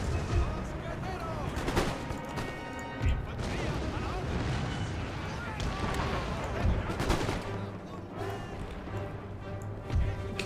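Musket volleys from massed infantry in the Empire: Total War video game, staged as a siege of Moscow, crackle as dense, continuous gunfire with repeated louder bursts against a constant battle din, and some faint speech.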